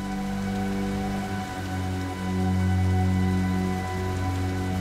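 Steady heavy rain pours down in a dense wash, with a sustained tonal drone running underneath throughout.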